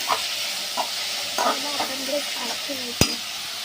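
Onions frying in a pan for Mumbai-style bhurji, a steady close sizzle with light scraping strokes of a spoon stirring and mashing, ending in one sharp tap against the pan.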